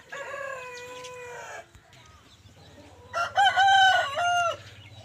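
A rooster crows twice nearby, loud drawn-out calls separated by a short pause, with low background hum between them.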